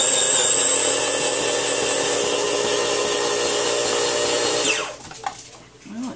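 An electric NutriChef PKELS70 salad shooter with its cheese blade grinds Asiago cheese in a loud, steady, high motor whine that runs for several seconds. It then winds down abruptly and is followed by a few faint clatters.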